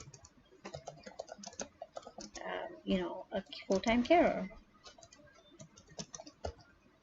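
Rapid typing on a computer keyboard: bursts of close, crisp key clicks in irregular rhythm, faint at first and then louder in the middle, with a voice speaking briefly.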